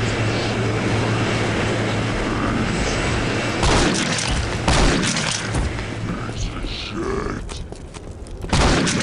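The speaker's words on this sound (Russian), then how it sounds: "Ой, самолеты." In the video game Postal 2, airplanes fly overhead with a loud, sustained roar and rumble, joined by booming impacts and crashes throughout.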